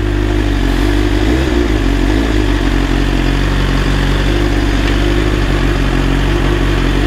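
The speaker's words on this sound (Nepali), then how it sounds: "So this is the cold start of BMW 1000RR." A BMW S1000RR sport motorcycle idles just after a cold start, its engine a loud, steady, close rumble with a slight mechanical clatter throughout.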